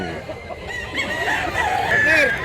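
Roosters crow and chickens cluck at a crowded fowl market in Mantalungon, Cebu, with several birds calling close by over a background of people talking.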